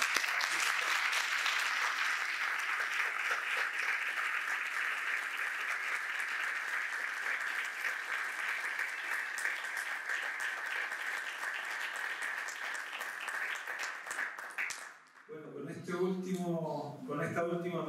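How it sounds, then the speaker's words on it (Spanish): Sustained audience applause at an international conference round table, a dense steady clapping that runs for about fifteen seconds before stopping abruptly, followed by a person speaking. "Quiero que le demos un aplauso"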